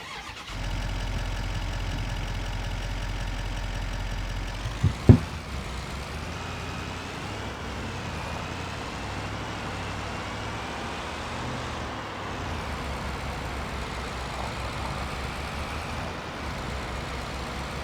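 A truck engine in Farming Simulator 25 cranks and catches, then settles into a steady mid-pitched idle and drive with a few clunks near the start.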